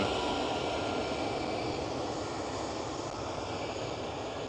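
An SAS airliner roars through its takeoff run at Schiphol airport in Amsterdam. The broad, steady jet-engine rumble stays moderately distant and even, with no speech.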